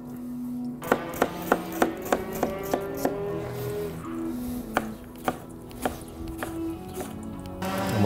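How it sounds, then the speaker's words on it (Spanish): A knife chops a spring onion on a board: about a dozen sharp, close strikes, quick at first and then more spaced out, over quiet background music. "Acto seguido a esto vamos a cortar una cebolleta."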